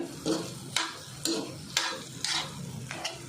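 Peanut powder being stirred into a mashed potato chutney, giving repeated scraping strokes about every half second, fairly close and moderately loud with no talk.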